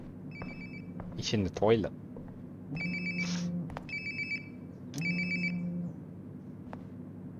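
A Hello Kitty phone rings in the Life is Strange: Before the Storm video game, with repeated short ring bursts in a clear pattern while a voice speaks briefly between rings.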